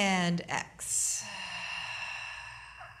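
A slow yoga exhale during a seated chair flow, heard as a soft, breathy sigh of air close to the microphone, brief and gentle, with quiet instructional talk in the background.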